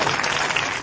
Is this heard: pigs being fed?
no